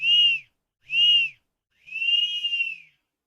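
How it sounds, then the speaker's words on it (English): Whistle sounding two short bursts and then one long held note, clear and tonal against total silence, close and fairly loud. "A whistle, 2 short bursts."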